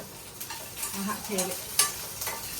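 Green chillies frying in hot oil on a home stove, a close, continuous sizzle broken by stirring clicks and scrapes, with no speech over it.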